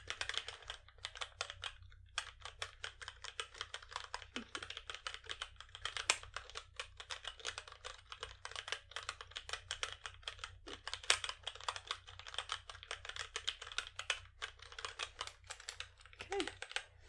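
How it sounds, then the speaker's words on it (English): Typing on a computer keyboard goes on continuously for over fifteen seconds in a soft, close, intimate setting, with rapid uneven key clicks over a steady low hum. "you just dictate to me and I'll type it out."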